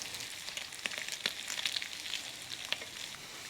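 Bacon strips and onion sizzle together in a skillet, a steady bright frying hiss with scattered small pops and crackles, close and alone.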